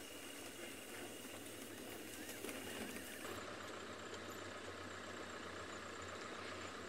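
A safari vehicle driving at night in the Masai Mara, with a steady low engine drone running throughout at a quiet, even level.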